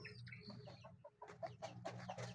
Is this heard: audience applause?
no